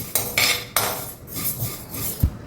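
Flax seeds crackle as they dry roast in a pan, giving off a few sharp snaps and scattered clinks at close range, with no voices over them.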